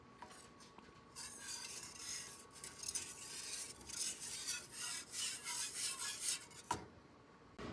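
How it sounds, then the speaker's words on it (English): A pot being stirred on a hot stove until it boils: a steady scraping, rasping rub of a utensil against the pan, close and continuous for several seconds, with a brief clink near the end and no talking. "And I'm going to stir this until it boils."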